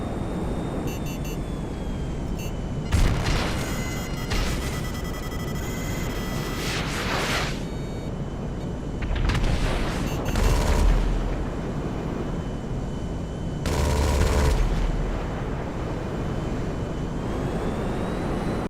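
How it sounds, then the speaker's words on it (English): A B-11 jet in GTA Online fires explosive machine guns and rockets: repeated roaring bursts of rapid fire and blasts in several clusters over a constant loud jet-engine drone, with no talking. "The way he dodges those rockets and then shoots the Mark II Rider from a good distance away too with the explosive MGs."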